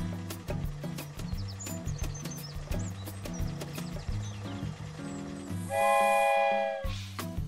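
A cartoon toy train chugs along in a steady rhythmic clatter with music-like tones, then a loud sustained whistle blast sounds near the end before the running resumes.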